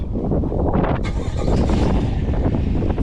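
Loud, blustery wind buffets the microphone outside beside a 2025 Chevy Silverado 1500 LT pickup, a dense roaring rumble that surges stronger partway through.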